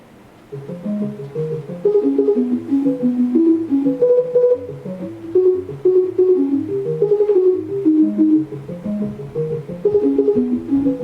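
A synth melody repeats a short sequence of notes over and over, played evenly and clearly with no voices.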